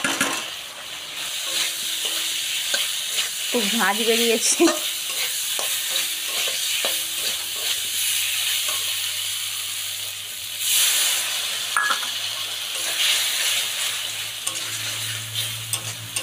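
Roasted moong dal tipped into a pan of potatoes frying in oil sizzles steadily, with stirring scrapes and brief utensil knocks, while a voice speaks briefly.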